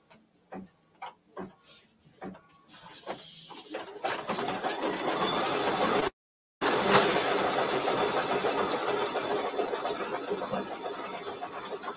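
A home sewing machine sewing an E stitch: a few separate taps first, then a steady, close mechanical whir with rapid rhythmic ticking that stops briefly and starts again, with no talking.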